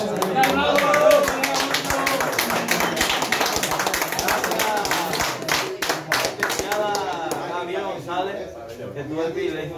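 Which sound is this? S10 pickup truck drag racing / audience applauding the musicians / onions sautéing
audience applauding the musicians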